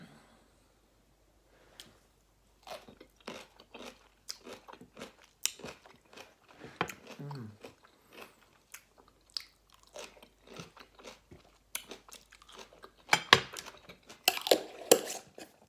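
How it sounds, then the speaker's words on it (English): Crunchy kimchi is chewed close up in a mukbang setting, giving a series of crisp, irregular bites and crunches against a quiet background. The crunching grows louder and denser toward the end. "So I'm just going to try some kimchi now."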